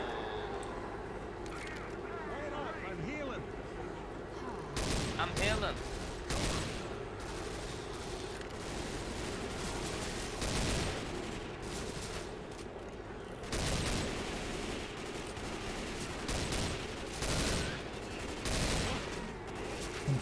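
Gunfire in the Left 4 Dead 2 Dead Air finale: repeated bursts of automatic fire, some rapid and some spaced, over a constant background of game noise, with someone talking at times.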